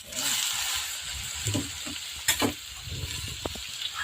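Fresh yellow noodles hit a hot pan and fry with a steady sizzle, with occasional stirring scrapes and clatters breaking through the hiss, close and fairly loud.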